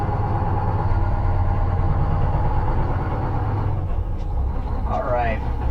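An old Mack roll-off truck idles in gear with a steady, loud low diesel rumble, and a voice talks over it near the end.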